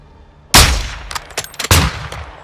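Two loud, close sniper rifle shots in Call of Duty Modern Warfare 2, each a sharp crack with a booming tail, followed by smaller scattered impacts and echoes.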